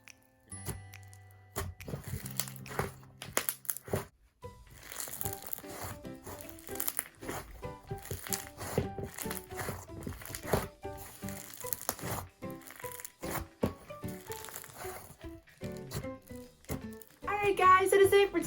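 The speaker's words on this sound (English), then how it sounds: "it has great clicking noises, and it's super nice and crunchy" Play-Doh slime is squished and worked by hand, giving close, crisp crunching and rapid clicking in irregular bursts, with a person talking at times.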